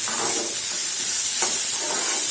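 Onion with ginger and garlic sautéing in a pan gives a steady loud sizzle with faint scraping stir strokes throughout, no voices.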